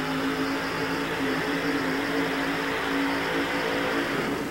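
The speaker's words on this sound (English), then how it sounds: "The truck absolutely thundered" A pulling truck's engine built with Pontiac heads roars at full effort, a loud, sustained, dense drone that holds steady for several seconds without a break.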